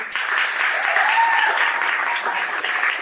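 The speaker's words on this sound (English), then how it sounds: "Can we give our cohort another round of applause" An audience claps warmly at the Pennovation Accelerator 2022 pitch day, a steady, full round of applause from a large crowd filling the room without a break.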